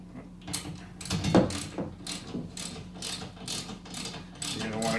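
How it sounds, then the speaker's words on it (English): Ratchet tightening a bolt on a Sanus BLT2-B1 wall mount bracket into a wall, a close series of rhythmic metallic clicking strokes repeating steadily over several seconds, no talk. "I'm going to use the ratchet as I mentioned in the earlier steps."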